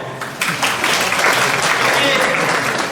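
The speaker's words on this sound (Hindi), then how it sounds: "तालियां हो जाए।" A seminar audience applauds, with clapping swelling in after a brief moment and then holding as a dense, loud wash of many hands, mixed with some crowd voices.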